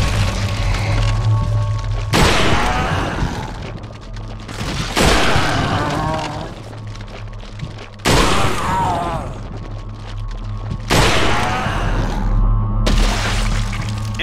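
Combat in Resident Evil 4 ending in an exploding enemy: several loud, sudden booming bursts with shattering, crackling tails, each separated by a few seconds of quieter rumbling background.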